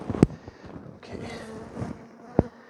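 Faint buzzing of honey bees over a soft background hiss, punctuated by a couple of sharp clicks or taps.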